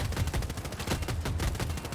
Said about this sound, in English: These cannons are hard to lead on the jets